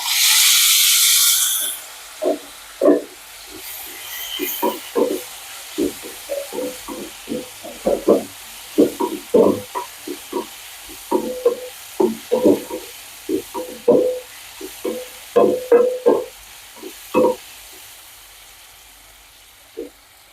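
Tomato and chillies hit a hot pan for tamarind kuzhambu with a loud hissing sizzle for about two seconds, then settle into scattered soft clicks and taps of stirring.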